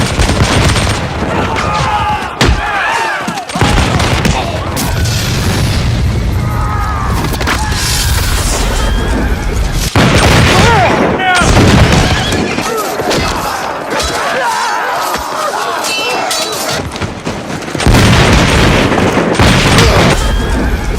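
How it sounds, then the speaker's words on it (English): Battle gunfire and explosions from the war films Braveheart and The Patriot, a dense, loud continuous barrage of shots, booms and thuds with shouting voices mixed in throughout. "the gunfire and explosion sound quality was top-notch"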